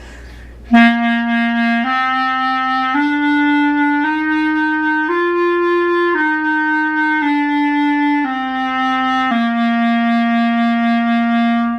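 A clarinet plays a slow series of sustained notes stepping up and back down, with a gentle pulsing wobble in the tone, solo and close.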